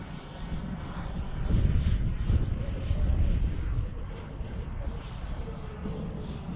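A large RC jet-turbine Avanti model aircraft in flight gives a steady, broad turbine roar that swells and eases slightly as the throttle opens, heard loud and continuous throughout.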